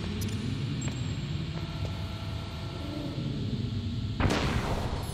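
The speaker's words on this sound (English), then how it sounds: "Or we can use a chaff grenade." A chaff grenade goes off in Metal Gear Solid, a sudden burst of bright hiss and crackle near the end over a steady rumbling background hum.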